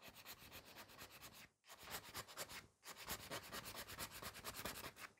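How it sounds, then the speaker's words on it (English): A nail file rubbing back and forth across a fingernail, a fast, rhythmic scratchy rasp with brief pauses, very close and faint, with no talk. "keep filing. All the way through the entire nail."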